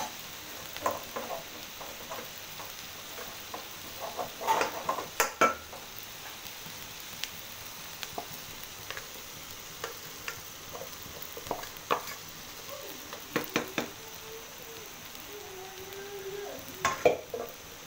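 Rice stir-fried for Chinese-style fried rice, a faint steady sizzle with scattered clinks and scrapes of a utensil against the pan, no voices.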